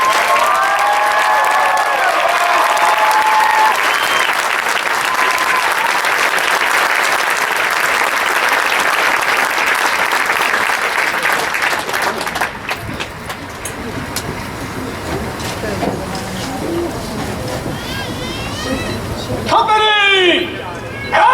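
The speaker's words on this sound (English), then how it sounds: "please join us in a warm round of applause for the officers and drill instructors" A large crowd at a Marine Corps recruit graduation for 3rd Battalion, Lima Company gives loud, sustained applause with some cheering. It fades after about twelve seconds into quieter crowd noise, with voices and shouted commands toward the end.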